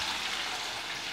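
Sliced onions sizzling in a hot frying pan, a steady bright hiss close up with no talking.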